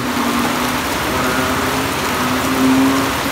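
Steady rain hisses continuously close by during a flood, with a faint engine drone running underneath.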